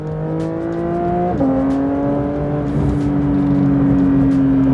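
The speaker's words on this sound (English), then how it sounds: "The way that this car grips with launch control, it gives you such a tight, aggressive launch" A Porsche 992 GT3 launches hard with launch control, its loud, close engine note climbing steadily in a sustained high-pitched rev that keeps rising after a brief shift.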